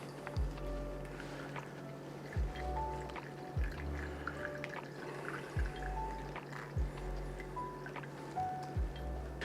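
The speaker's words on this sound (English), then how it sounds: "So I got my pour over coffee maker here. Take our bag and just slowly pour it in." Strained ginger puree drips through a cloth bag in a pour-over coffee maker, giving a slow series of soft, irregular liquid drops and trickles heard up close in a quiet room.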